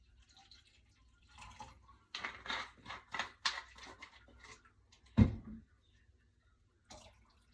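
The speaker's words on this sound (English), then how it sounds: "And so I'll pour this vinegar in here." Vinegar poured into a liquid measuring cup in a home kitchen, heard as a few seconds of soft splashing and trickling, followed by a single louder thump and a brief faint knock near the end.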